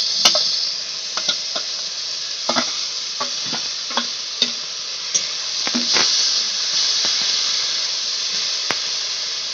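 Chopped onions sizzle and hiss steadily in hot oil in a pan, broken by frequent scraping stirs and clicks of a utensil, close and continuous with no talking.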